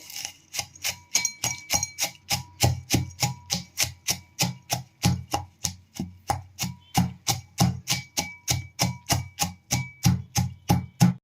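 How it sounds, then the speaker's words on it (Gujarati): Rhythmic pounding of spices in a mortar and pestle: dozens of sharp metallic thuds in a steady, even beat, close and clear with ringing overtones. "તો આપણે આને એક ખાંડણીમાં પહેલાં ખાંડી લેશું"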